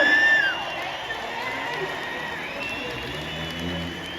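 Super Enduro crowd cheering for rider Billy Bolt at the Newcastle round: a dense, sustained roar of voices and shouts from a large arena audience, steady throughout after a brief tonal sound at the start.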